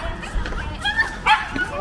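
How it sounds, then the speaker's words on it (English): Small dog on a Liverpool street giving several quick high yips and barks, close by, with people talking over the street noise. "This little dog is about to have a little bit of a fit."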